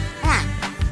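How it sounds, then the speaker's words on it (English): A duck gives a short, nasal quack or two, loud and close, heard alone in under a second. "It's a duck."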